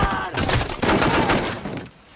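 A burst of rapid gunfire in a jungle ambush by Taliban forces, several loud overlapping shots crackling close together in a dense volley before cutting off to near quiet at the end.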